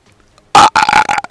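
A gaming commentator lets out a loud, close burp in a couple of drawn-out bursts, alone after a brief quiet.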